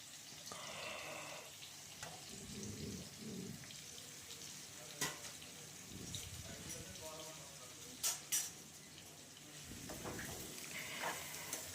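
Onions and green chillies fry in oil, giving a steady, moderate sizzle with occasional sharp clatters and utensil knocks; a voice talks faintly over parts of it.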